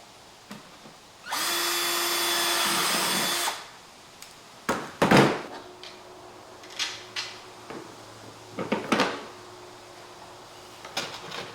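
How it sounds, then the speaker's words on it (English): A power drill bores holes into a toolbox, with one loud sustained burst of whirring a couple of seconds long, followed by scattered knocks and clunks from handling the box and hardware. "let's drill some holes and see if we can make this work."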